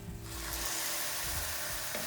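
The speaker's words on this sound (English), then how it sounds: "After lightly oiling the frying pan, I'm going to add in my 2 pieces of eggplants." Eggplant pieces fry in a lightly oiled frying pan for a vegan Japanese dish, giving a steady, close sizzle that holds evenly throughout with no talking.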